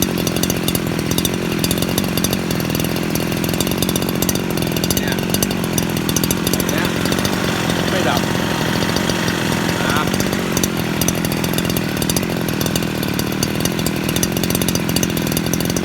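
A Honda GX50 four-stroke brush cutter engine runs continuously, loud and close, with a buzzing, raspy drone that stays steady for the whole stretch.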